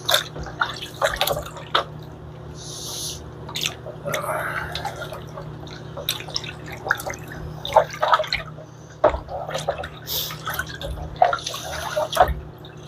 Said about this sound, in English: One more rinse.